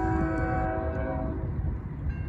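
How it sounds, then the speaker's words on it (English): A BNSF-led double-stack intermodal freight train sounds its horn loudly with a sustained blast, then the horn cuts off, leaving the rumble of the passing train. "Gates getting ready to go. Because there's a train coming down that way."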